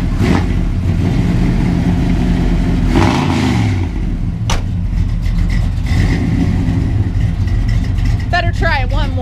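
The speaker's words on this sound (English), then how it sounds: "just because we have to start it up, let's hear it run." A 1972 Chevrolet Cheyenne K20 pickup truck engine runs steadily close by with a rough, broad rumble, swelling in a brief rev before settling back, with short voices near the end.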